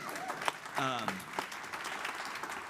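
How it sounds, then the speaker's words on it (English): Scattered audience applause at a civic talk on walkability, fairly faint and brief, mixed with a speaking voice over a microphone. "Yeah, you can clap for that."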